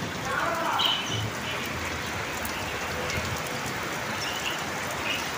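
Steady rain patters on rooftops during a thunderstorm, a dense even hiss close by, with a few faint bird chirps poking through.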